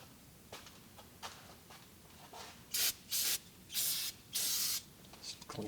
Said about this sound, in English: You'll get a little bit of brake clean, and just clean that up so that we can tell if it leaks